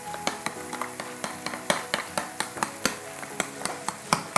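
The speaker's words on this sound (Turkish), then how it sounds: "Çırparak karıştırmaya devam ediyoruz." A whisk taps and scrapes rhythmically against a bowl while yogurt is beaten into a smoky eggplant meze mixture, with evenly spaced sharp clinks close to the microphone and no voices.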